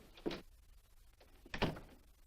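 An office door in a 1950s building opens with a short thunk and latch sound, followed about a second later by a louder swing and closing knock, both close and brief against quiet room tone.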